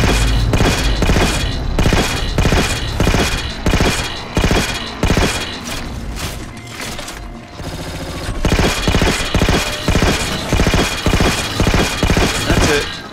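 Assault rifle fire in Halo 4 rattles in loud, rapid sustained bursts with brief pauses and heavy thumps, continuing nearly throughout.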